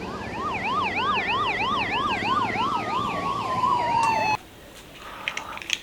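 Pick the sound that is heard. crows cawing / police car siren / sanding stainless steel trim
police car siren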